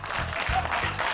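A studio audience on a Catalan TV talk show breaks into a short burst of dense clapping, loud and continuous for about a second.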